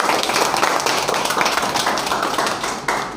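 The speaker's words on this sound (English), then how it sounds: "Good clapping for everyone." An audience claps together after a discussion of Indian versus Western culture, a dense, steady wash of many hands sustained for the whole stretch, fairly close and loud, with no voices over it.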